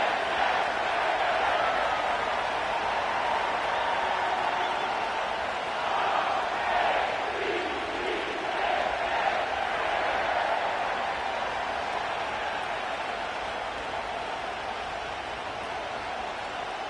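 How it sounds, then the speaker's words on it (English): Broad, steady roar of a stadium crowd in an EA Sports football game at the Ravens' M&T Bank Stadium in Baltimore, Ravens against Browns, a continuous wash of noise with slight swells and no talk. "The crowd is definitely ready."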